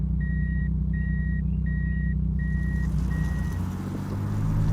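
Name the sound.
car reverse warning beeps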